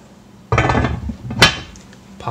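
A metal lid lands with a clattering clank on a Challenger cast-iron bread pan holding a scored, floured loaf, one close sharp hit after a muffled shuffle of handling.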